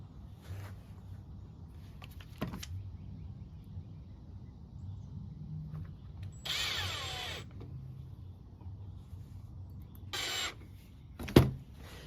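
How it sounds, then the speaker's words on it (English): Tiny plastic screws are driven into the brake pedal of an EZGO TXT golf cart (1996-2013): two short whirring bursts against a quiet background, with a few faint clicks and a sharp tap near the end. "just take these little tiny plastic screws it comes with, and just screw it right to the pedal"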